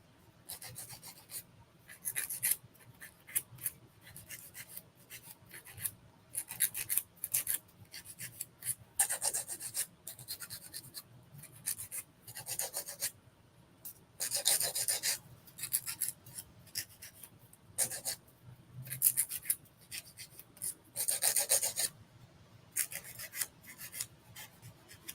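A nail file shapes fingernails in short, repeated rasping strokes, close and fairly quiet, coming in quick bursts separated by brief pauses.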